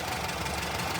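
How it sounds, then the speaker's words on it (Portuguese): Volkswagen Brasília engine idling after a fuel pump replacement, a steady broadband rumble with a faint knocking texture, loud and close, running alone without voices. "E olha o ronco desse motor"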